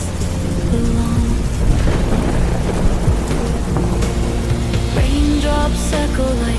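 Heavy rain pours steadily during a night thunderstorm, with thunder rumbling through it and raindrops striking surfaces, loud and continuous with no talk.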